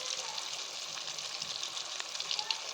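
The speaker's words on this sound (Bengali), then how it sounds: "আমি এটাকে ভালো করে বাদামি কালার করে ভেজে নেব।" Mirka fish browning in a frying pan gives a steady, close hiss of sizzling oil that holds even and unbroken throughout, with faint crackles scattered over it.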